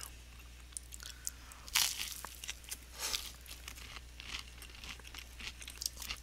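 Someone bites into Eggo chocolate chip waffles and chews them up close. The crunches are moist and crumbly, with a sharp bite at the start and lighter crackles after it, heard alone over a low steady hum.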